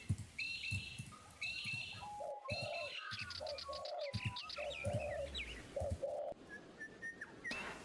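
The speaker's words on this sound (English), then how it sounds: "There are some bird noises." Pigeons or doves coo and whistle in repeated soft phrases, joined by scattered chirps and tweets, fairly close and uninterrupted by talk.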